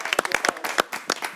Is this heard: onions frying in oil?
no